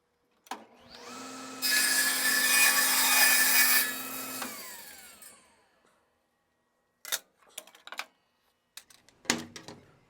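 A table saw with a thin rip jig cuts a thin wood strip: a loud whining cut for about two seconds, the blade winding down, then scattered clatters of wood being handled.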